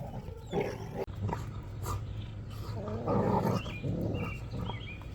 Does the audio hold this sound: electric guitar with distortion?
no